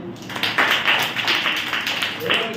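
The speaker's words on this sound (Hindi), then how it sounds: "देखो ताली बजाओ के लिए।" Hands clapping in a classroom during a maths lesson: a close, fairly loud series of sharp claps in an uneven rhythm, with a voice faintly beneath.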